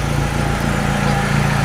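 A 1997 BMW Z3's engine idles steadily nearby, a low even rumble with a regular pulsing beat that holds unchanged throughout, with no voices.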